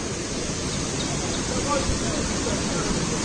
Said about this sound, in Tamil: தண்ணி சவுண்ட் கேட்கறதுக்கே ஒரு மாதிரி அப்படியே செம்மையாக இருக்குது